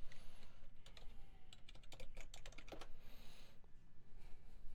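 Quick bursts of key presses on a computer keyboard rattle close by in an irregular typing rhythm, fairly quiet over a steady background hum.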